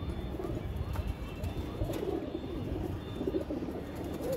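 Pigeons in a loft, soft low cooing repeating faintly amid a busy background murmur of other birds and room noise.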